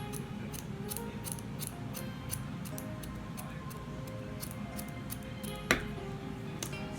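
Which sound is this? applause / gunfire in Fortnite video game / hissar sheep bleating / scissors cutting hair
scissors cutting hair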